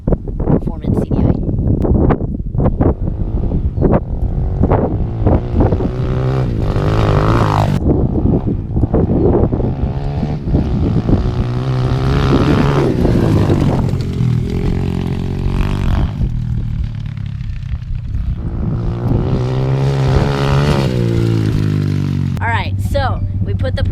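A dirt bike engine runs on its stock CDI, before a performance CDI upgrade. The motor idles and revs loudly and close, with blips and wind buffeting, and a person talks over it for much of the time.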